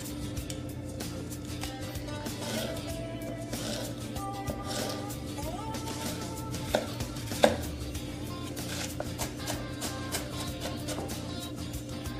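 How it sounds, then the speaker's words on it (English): Knife chopping pineapple salsa ingredients on a cutting board, a fast steady run of close, crisp taps over a constant background hum. "I'm going to give it a little chop just to get the pieces just a little bit smaller"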